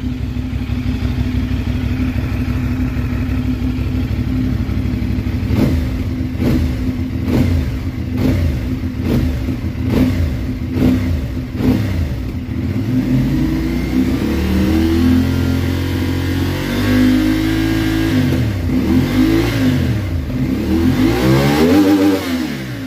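A CFMOTO 450NK motorcycle with its stock exhaust, started cold, idles and then revs in sharp repeated blips that rise toward 12,000 rpm. It is loud and close, with rising and falling engine pitch and no talking.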